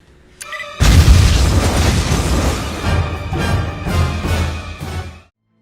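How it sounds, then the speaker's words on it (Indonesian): A Corolla Turbo car blows up in a film explosion: a brief high tone, then a sudden loud deep boom that rolls on with rumbling debris and crackling bursts before cutting off. "Zen pun meledakkan Corolla Turbo itu dan berpura-pura membuat Owen tewas dalam sebuah ledakan"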